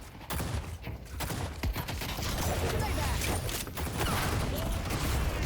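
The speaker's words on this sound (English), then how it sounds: "I miss some of my shots." Rapid gunfire from the video game Deadlock crackles in sharp bursts over a busy, noisy game mix, with shots clustered at the start and scattered through the rest.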